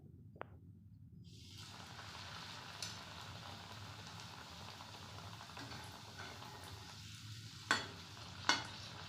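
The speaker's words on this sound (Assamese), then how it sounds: "এতিয়া মই কেৰাহীত তেলখিনি গৰম হ'ব দিছো" Gujiya frying in hot oil in a wok, a steady close sizzle that runs the whole way with no talking, marked by a couple of sharp clinks near the end.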